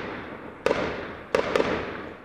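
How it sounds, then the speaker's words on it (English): Three sharp gunshots crack out on Mosul's city streets as government forces exchange fire with militants, over steady background rumble, one alone and then two in quick succession, each followed by a brief echoing tail. "government forces on the city's streets exchanging gunfire"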